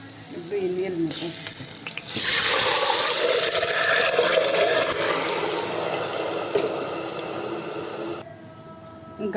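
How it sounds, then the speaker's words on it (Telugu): Water pouring from a cup into a cooking pot of rice and moong dal for pongal, a splashing, gurgling stream that starts after a few clinks, runs for several seconds, then stops. "3 కప్పులు నీళ్ళు పోయాలి."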